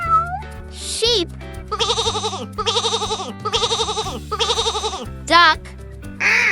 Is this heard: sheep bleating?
yes